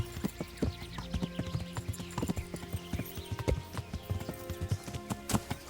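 Horse hooves clip-clop steadily while riding in the medieval game Kingdom Come: Deliverance. The hoofbeats form a close, even trotting rhythm of moderate loudness throughout.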